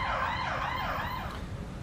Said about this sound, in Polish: A akurat karetka jedzie.